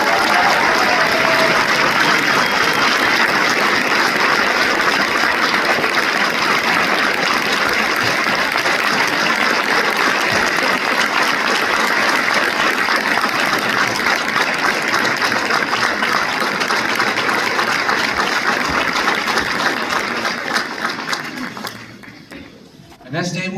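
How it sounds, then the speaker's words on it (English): Sustained applause from a large audience at a Culinary Institute of America graduation ceremony, a dense steady wash of clapping that fades out near the end. "Let's give her a round of applause."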